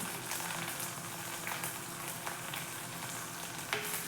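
Shallots, green chillies, ginger and curry leaves fry in coconut oil with a continuous soft sizzle and occasional faint stirring clicks, close and unaccompanied by speech.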